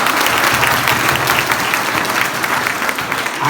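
An audience applauds to welcome a nationally known comic poet at a college event, a loud, dense burst of clapping that stays steady throughout with no one speaking.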